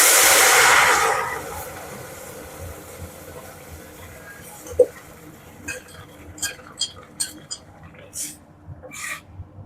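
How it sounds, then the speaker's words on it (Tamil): Cooked greens and moong dal are poured into a hot pan of tempering with dried red chilli and crushed fennel, giving a loud hissing burst that fades quickly, followed by quiet stirring and a series of sharp utensil clinks. "இப்போ கீரை அதில் ஊற்றிடலாம்."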